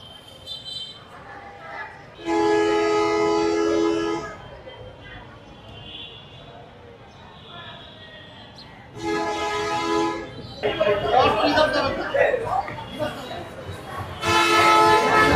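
A local train at Rajshahi station sounds its horn in long, loud, steady blasts, repeated several times with pauses between them, while station noise and rumble fill the gaps.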